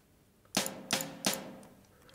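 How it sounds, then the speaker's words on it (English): Three sharp snare drum hits from a drum sequencer sample, evenly spaced and crisp, each with a short bright decay, played alone with no talk. "I need a snare."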